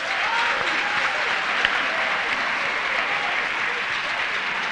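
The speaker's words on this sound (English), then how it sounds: "Please join me in clapping for all contestants." A school quiz competition audience applauds steadily, dense clapping that holds at an even level throughout without fading.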